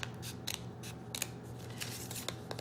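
Scissors snip paper to make a 3D paper snowflake, giving a run of short, crisp, close cuts in an uneven rhythm with brief gaps between them.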